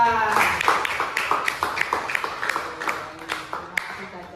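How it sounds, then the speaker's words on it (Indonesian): A short burst of classroom clapping, many hands striking fast and unevenly, fairly close, with a few voices mixed in. "Tepuk tangan untuk Caca"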